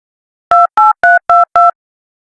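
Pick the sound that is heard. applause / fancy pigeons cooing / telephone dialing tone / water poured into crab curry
telephone dialing tone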